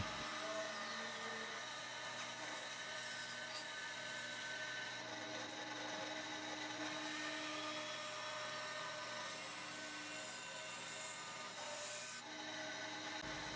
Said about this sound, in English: Here I'm cutting out the headstock shape before cutting away the excess material from the back of the neck and headstock